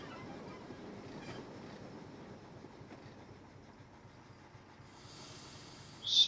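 Simulated train in Train Simulator 2014 rolling along during shunting of dead engines, a steady rumble with faint clickety-clack and brake hiss, ending in a short sharp squeal.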